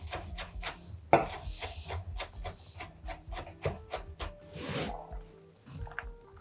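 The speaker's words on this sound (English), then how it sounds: "now I'm gonna cut down and I'm gonna cut this really finely." A knife finely chops a white onion on a board in quick, steady close taps, with a brief pause and some rubbing scrapes partway through.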